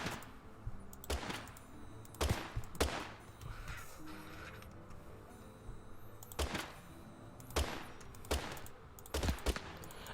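Cartoonish pistol gunfire in the video game Totally Accurate Battle Simulator, a few sharp, fairly quiet shots scattered with pauses between them over faint background game sounds.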